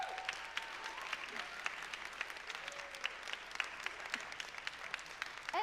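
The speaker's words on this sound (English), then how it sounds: "Can we give them a round of applause?" A round of applause from a church congregation at a Sunday evening service, sustained dense clapping at moderate distance with faint voices mixed in.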